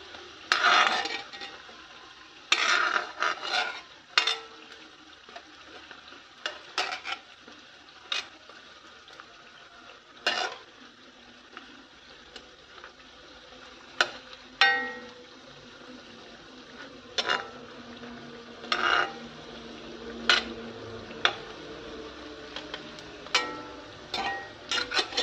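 Assamese pitha biscuits of suji flour, sugar and coconut are flipped one by one in a frying pan, making scattered close clinks and scrapes of utensil on pan over a soft, steady background hiss.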